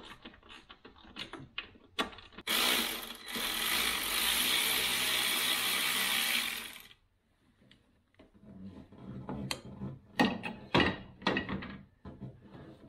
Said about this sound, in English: I'm just going to take the bracket off by removing these two bolts